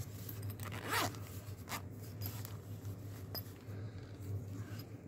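A zipper on a 704 Gear knife pouch being opened, several quick close rasping pulls with rustling handling in between, quiet and without speech.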